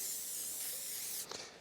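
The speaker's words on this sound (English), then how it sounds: "I'm going to lightly grease this board with avocado oil" Avocado oil spray hisses from a can onto a marble board, a single steady close spray lasting just over a second before cutting off with a brief clatter.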